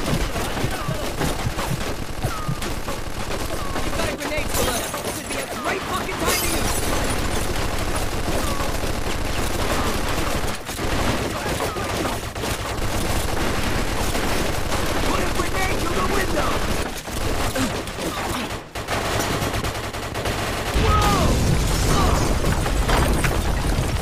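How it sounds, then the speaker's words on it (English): Sustained machine gun fire in the Mafia II video game, a dense, loud and continuous barrage of shots and bursts lasting throughout, with occasional booms. "Looks like we found the machine guns!"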